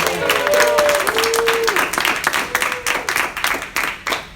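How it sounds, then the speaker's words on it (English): An audience at a Chicago business talk applauds for Amanda, dense clapping close and loud at first, thinning into scattered individual claps, with a voice heard briefly over it early on. "So, applause for Amanda."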